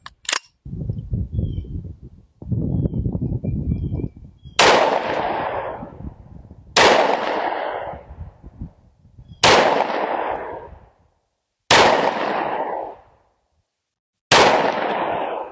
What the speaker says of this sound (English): the first time I fire this new Hi-Point 10mm